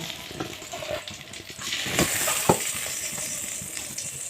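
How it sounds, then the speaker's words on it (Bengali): Eggplant pieces fry in oil in a wok, with a bright, continuous sizzle punctuated by scraping stirs and a few sharper clatters as they are turned. "বেগুনগুলো উল্টো পাল্টা করে আমি ভেজে নিয়েছি।"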